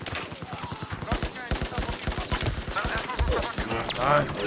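Rapid automatic gunfire bursts in Battlefield 4, loud and rattling, with dense repeated shots across the whole stretch.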